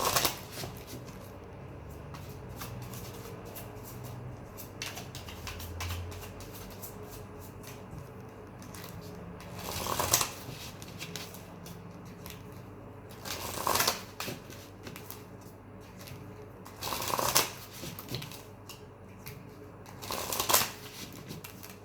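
Tarot cards are shuffled in repeated bursts of riffling, about five quick flurries spaced a few seconds apart, close and crisp, with quiet rustling between.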